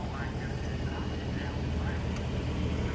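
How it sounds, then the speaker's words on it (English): Pro mod drag racing cars at Bradenton Motorsports Park fill the air with a loud, continuous engine roar, and people talk beneath it. "A couple pro mod cars that sound like."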